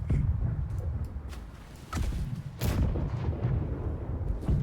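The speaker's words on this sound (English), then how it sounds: "Grenade!" Video game grenade blast among heavy gunfire, with deep booming explosions and sharp cracks rolling over a constant low rumble of battle, loud and close, with no speech.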